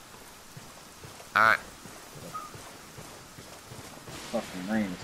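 Steady hiss of rain falls in the jungle at dusk in the video game Ghost Recon Wildlands, continuous and moderately loud, with someone speaking briefly over it.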